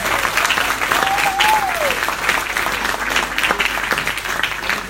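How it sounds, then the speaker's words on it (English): A crowd at a tech demo day event applauds steadily, many hands clapping loudly and continuously, with a brief whistle or cheer rising above the clapping. "we give a round of applause to the IOB, Andre Young"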